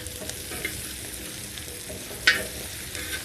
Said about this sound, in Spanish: Vamos a revolver así por unos 5 minutos para que los tres ahora se mezclen